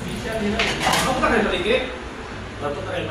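A metal cooking pot being handled, with close clanks and scrapes of cookware against a hard surface while people talk nearby.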